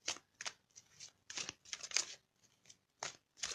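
Tarot cards shuffled and drawn in short papery bursts of riffling and snapping, close and dry, several quick shuffles separated by brief pauses, no voices.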